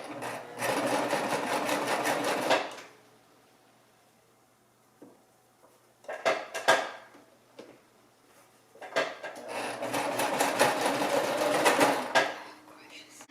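A home sewing machine stitching a baby hat whirs in two sustained bursts, separated by a quiet stretch with a few soft clicks and handling knocks.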